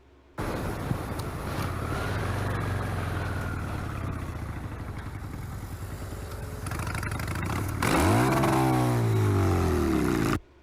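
A motorcycle engine roars loudly and steadily nearby, then revs up sharply with a rising and falling whine near the end before cutting off.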